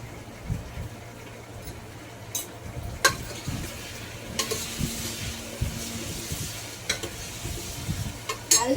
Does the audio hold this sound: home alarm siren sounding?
no